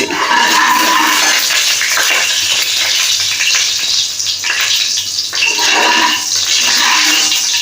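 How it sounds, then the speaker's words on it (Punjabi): Cumin seeds fry in hot oil in a kadai (wok) while paneer bhurji is being made, giving a loud, continuous hiss and crackle that fills the whole stretch, with brief dips midway. "ਤੇ ਜੀਰੇ ਭੁੱਜਣ ਦੀ ਆਵਾਜ਼ ਆਉਂਦੀ ਹੈ"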